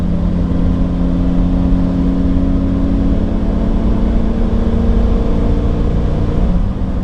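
A 2005 Roadtrek 210 Class B camper van accelerates smoothly on the road, its engine holding a steady rising drone over tyre and wind rumble, loud and continuous from inside the cab.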